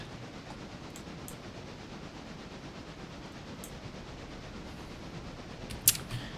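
Steady low rumble of a train rolling along in the railroad simulation game Railroader, a continuous broadband drone with a few faint clicks and one sharp metallic clank near the end.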